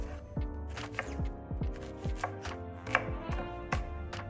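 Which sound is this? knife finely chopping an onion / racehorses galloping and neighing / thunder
knife finely chopping an onion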